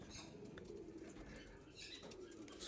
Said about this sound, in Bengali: খুব ভালো কোয়ালিটির পায়রা,